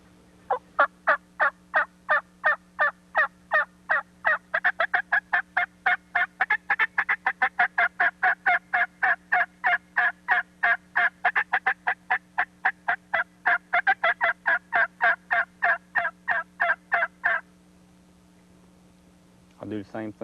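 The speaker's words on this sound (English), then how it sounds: "Let me give you a little sample with some basic yelping, and I'm going to just kind of speed it into maybe a little bit of what we call cutting." A Champion Choice mouth turkey call produces a long, rapid run of close, loud hen yelps that quicken into cutting, several dozen evenly spaced notes over a steady low hum, then a brief pause and a final burst.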